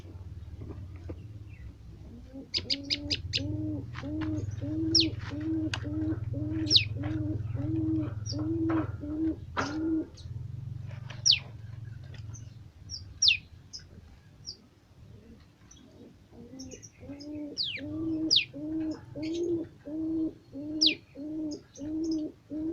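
Pigeons or doves coo in a steady, repeated rhythm nearby, with sharp chirps and small cage knocks scattered through, recorded fairly faint and close, as birds are moved from a wooden cage to an iron cage.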